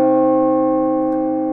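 A large, deep bell tuned to low C rings out alone and sustained, its hum and prime tones stacked in a rich, steady chord of overtones that decays only slightly.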